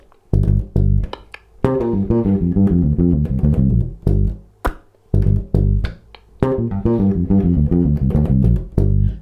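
Electric bass guitar playing a two-bar groove with a fast displaced lick in the second bar, repeated twice, with punchy plucked notes and busy runs, close and solo.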